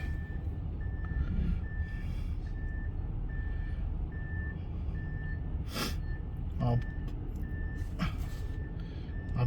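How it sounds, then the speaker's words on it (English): A truck's reversing alarm beeps evenly and steadily against a rough outdoor background at a scrap metal yard, with a few breathy snorts and a voice close by. "Beep beep, he's beeping."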